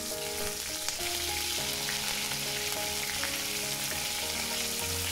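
Curry leaves sizzling in hot coconut oil in a pan on the stove, a dense steady frying hiss throughout, close, with music playing underneath.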